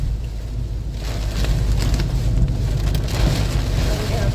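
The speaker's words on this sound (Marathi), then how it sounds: "आता पाऊस सुरू झाला चांगला मोठा" Steady rain hisses and patters on a car driving through the Anuskura Ghat, with a low road and engine rumble underneath throughout.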